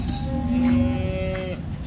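Cows at the Modnimb cattle market, dairy animals priced around a lakh each, with one drawn-out low moo rising out of the steady market hubbub.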